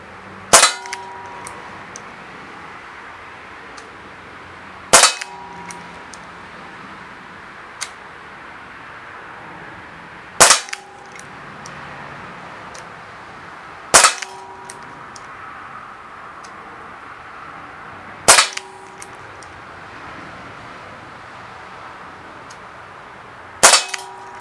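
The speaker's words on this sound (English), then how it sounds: "I'm going to shoot in single action," A Baikal MP-655K CO2 pellet pistol fires dome pellets in single action, six sharp snapping shots spaced a few seconds apart with faint mechanical clicks of cocking between them.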